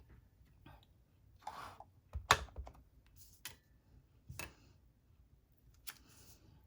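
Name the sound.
paper punch punching out a leaf shape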